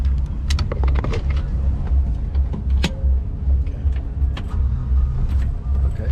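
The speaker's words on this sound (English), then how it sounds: "second motor just started" A second outboard boat motor starts and settles into a steady, rumbling idle at the dock. The low drone runs continuously, with small clicks and knocks close by over it.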